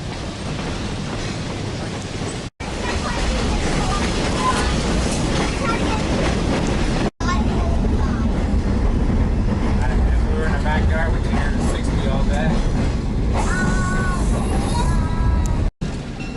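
A Black River & Western heritage train rolls past near a bridge on the line back to Ringoes, a loud continuous rumble and clatter with squealing tones near the end, broken by brief cuts, with people talking over it.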